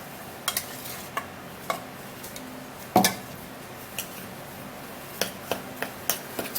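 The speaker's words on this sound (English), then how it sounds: "I would stir and mix it up really good." A homemade skin-treatment mixture is stirred in a bowl, with a series of light, evenly spaced clicks and taps from the utensil and one louder knock partway through, close and quiet, with no talking.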